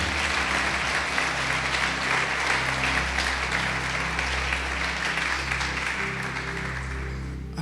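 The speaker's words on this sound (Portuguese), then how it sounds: "Vamos aplaudir o Senhor Jesus." A church congregation applauds during a Portuguese-language service: dense, sustained clapping from a large crowd, steady and loud, tapering slightly near the end.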